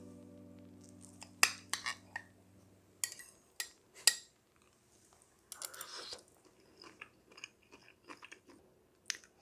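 Cooked keto lumpia filling being chewed close up, with soft crunchy bites and a few light clinks of cutlery or glass between quieter gaps, preceded by a low steady hum.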